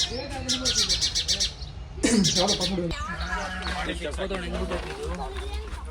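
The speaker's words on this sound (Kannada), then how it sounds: "ಗುಬ್ಬಚ್ಚಿ." Small high bird chirps, a sparrow, repeat in quick bursts near the start amid an outdoor village setting, with voices talking loudly over most of the stretch.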